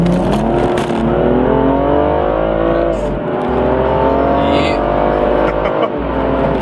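A BMW M235i engine with an aftermarket performance tune roars loudly and climbs steadily in pitch as it accelerates hard, heard from inside the car.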